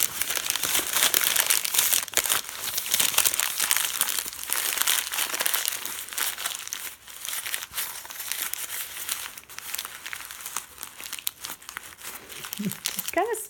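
Paper is crumpled and smashed by hand to shape a tail, a dense, continuous crinkling and crunching close up for several seconds, with a brief pause midway.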